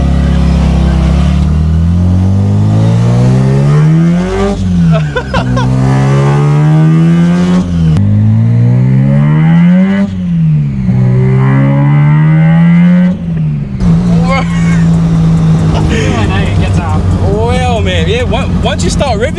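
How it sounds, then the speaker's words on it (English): A Mazda 1300 street cruiser fitted with a 13B bridgeport rotary engine revs loudly and close, rising and falling in repeated blips with a harsh, buzzy rasp that swells and drops back between throttle stabs. "Yeah, then it's just pure rotary noise."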